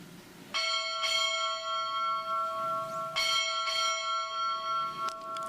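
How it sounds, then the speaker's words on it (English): Two pairs of ship's bell strikes ring out during a naval Recruit Training Command change of command ceremony, clear and resonant, each strike leaving long sustained metallic overtones that decay slowly in a fairly quiet space. "Time orderly, strike 4 bells."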